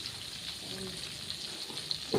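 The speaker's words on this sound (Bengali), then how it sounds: "অন্য কড়াইতে ফ্রাই করে নিচ্ছি।" Quiet frying hiss from a pan, steady and close, with a few faint crackles and a brief knock at the end.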